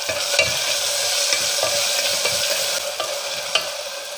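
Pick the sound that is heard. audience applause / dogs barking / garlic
garlic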